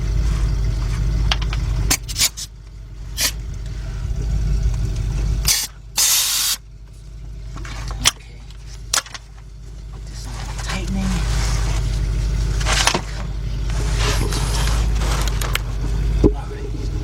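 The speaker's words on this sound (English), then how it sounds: "And get our air gun here." A pneumatic air gun works the catalytic converter bolts on a 2001 Chevy Tracker 2.5, sounding in several sharp hissing bursts over a low background rumble. Someone speaks between the bursts.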